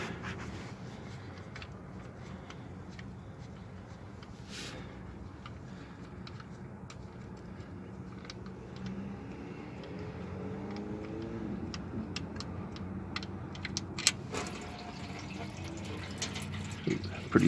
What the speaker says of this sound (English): I got the jack out and the drain pan ready to drain the oil.